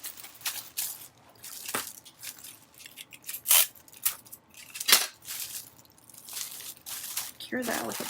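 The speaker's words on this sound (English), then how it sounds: "Secure that with a piece of tape." Tape is torn and pressed onto a crinkly Dollar Tree gift bag with folded ends, giving sharp ripping bursts and rustling crinkles in irregular spurts close to the mic.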